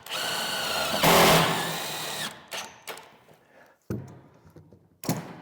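A power drill whirs loudly for about two seconds, driving a screw into wood for a large barn door, then surges briefly. Short clunks and knocks of handling follow in a quieter stretch, with one more brief burst near the end.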